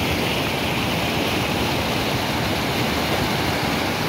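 Flooded Rio Salgado in the northeastern Brazilian sertão pours along in a dense, unbroken rushing roar, loud and close throughout with no voices.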